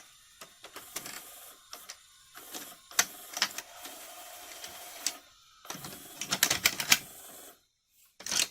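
A Funai-built VCR mechanism ejects a tape, giving a sequence of close mechanical clicks, whirs and clattering ratchet sounds in bursts, with short quiet gaps between them and a final clunk.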